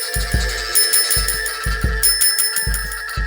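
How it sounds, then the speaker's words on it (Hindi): A bell rings steadily over a repeating low thumping rhythm, the bright tone holding through several seconds with no voices. "तुरंत घंटी बजाता है"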